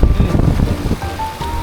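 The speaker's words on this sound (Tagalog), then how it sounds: "Grabe, lakas na ng ulan." Heavy rain driven by wind pours down at a fishing spot during a sudden squall, a dense, steady roar of wash and gusts close to the microphone throughout, with faint tonal hum over it.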